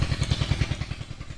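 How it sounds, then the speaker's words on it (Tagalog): Engine chugging at a steady idle with rhythmic low pulses and some clatter, close and alone, during a hose set-up outdoors. "patayin muna natin yung makina at lilipat natin yung hose"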